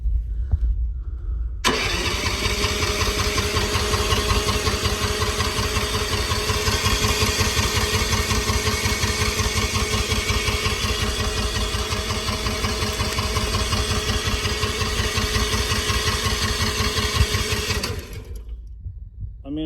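Excavator engine cranking steadily for nearly twenty seconds without catching, a loud, close, rhythmic churning of the starter that then stops.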